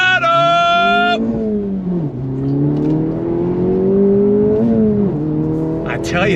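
A 2024 Acura Integra Type S hot hatch accelerating hard on throttle, the engine note climbing loud and close with a brief shift dip. A couple of exhaust pops crackle near the end.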